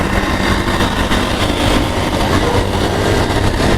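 Road traffic at the Gulistan crossing rumbles loud and steady with engine drone from cars and motorbikes, a dense continuous roar close by, no talking.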